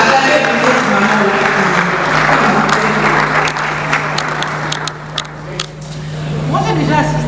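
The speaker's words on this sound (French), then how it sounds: "Acclamez pour cette maman." A crowd at a public product demonstration in Kinshasa claps and cheers for a mother, a broad continuous applause that gradually thins, with voices mixed in.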